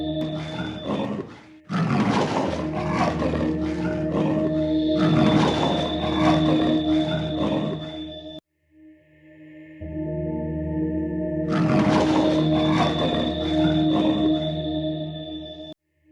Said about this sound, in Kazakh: Барс.